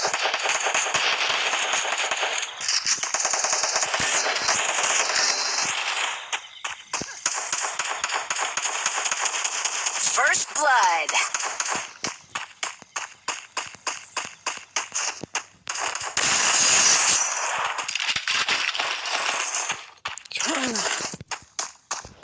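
Rapid pistol gunfire in a video game, sharp repeated shots in dense bursts with brief pauses, loud and close throughout.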